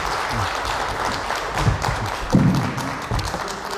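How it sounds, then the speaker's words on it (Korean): Audience applause welcoming a lecturer at an economics lecture hall event, a continuous moderately loud wash of clapping from a seated crowd lasting a few seconds. "박수로 환영해 주시기 바랍니다."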